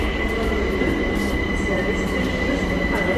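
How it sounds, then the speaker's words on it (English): A train rumbles steadily close by, a constant metallic drone with a high whine, as it rolls into the station. "I think a train is coming now"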